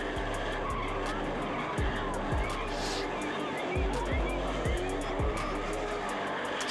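A BMW E30 driven hard on a track, heard from the passenger seat, with a sustained engine drone and repeated short tire squeals and skids as it corners, and people talking faintly underneath.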